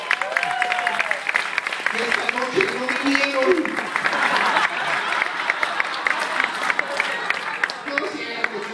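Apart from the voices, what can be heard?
audience applauding at a comedy show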